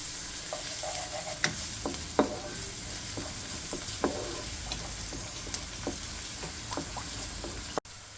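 Thinly sliced onions and ginger-garlic paste frying in a pan, a steady moderate sizzle with frequent crisp ticks and scrapes from stirring, close and without talking, ending in a brief dropout.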